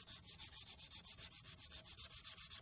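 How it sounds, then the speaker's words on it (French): Fine 600-grit sandpaper is rubbed over car bodywork in quick, even back-and-forth strokes, giving a soft, rhythmic scratching that stays close and steady throughout. "Maintenant, il faut que je ponce avec le grade 600."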